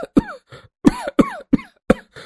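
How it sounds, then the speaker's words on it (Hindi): Cartoon characters cough hard from thick smoke after coming home soaked from rain, five or six loud, harsh bursts in an uneven sequence, some rising into raspy, voiced hacks, with short gaps between them. "धुएं की वजह से जोर जोर से खांसने लगते हैं।"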